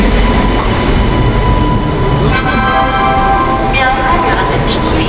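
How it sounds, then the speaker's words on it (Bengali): The Marudhar Express, train number 14854 and a tourist special passenger service, rumbles loudly and steadily at close range, with faint squealing wheel tones rising partway through. "এই হচ্ছে আমাদের মারুধার এক্সপ্রেস, ট্যুরিস্ট স্পেশাল গাড়ি"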